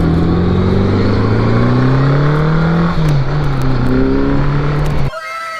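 Motorcycle engine at full throttle in second gear on a freezing day, a loud, close, continuous roar whose pitch climbs steadily, then cuts off abruptly near the end.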